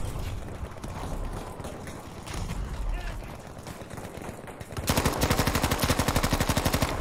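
Battlefield V video game gunfire: scattered distant shots and battle noise under talk, then a loud, close, rapid automatic burst of evenly spaced shots over the final two seconds.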